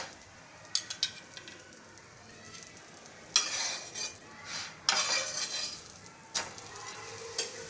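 A poha and spring onion paratha fries in a little oil on a pan over medium flame, soft sizzling under bursts of scraping and stirring strokes and occasional light clinks of utensil on metal.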